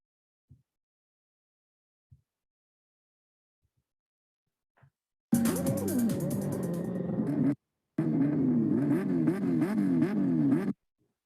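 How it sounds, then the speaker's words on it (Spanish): Four-cylinder motorcycle engines rev hard in two sustained bursts played back as recorded audio, rising and falling in pitch, after a few faint isolated clicks and a short silent gap between them. "estas motos tetracilíndricas suenan deliciosas"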